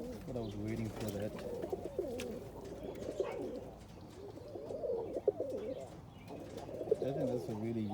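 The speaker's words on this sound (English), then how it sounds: "I think that's a really young bird. I think it's a Cuban powder." A young Cuban pouter pigeon coos in low, rolling phrases, repeated several times over steady background murmur, with some faint chirps above.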